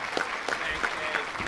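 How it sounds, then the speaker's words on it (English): Brief applause from a dinner crowd at a political event for Congressman Charles Gonzalez, a sparse rhythm of claps standing out over background chatter. "Big round of applause for Congressman Charles Gonzalez."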